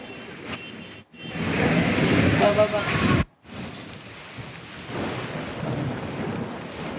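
Unseasonal thunderstorm with heavy rain in Solapur: loud, rolling thunder swells over a constant hiss of downpour, broken by two abrupt cut-offs, then steady rain continues.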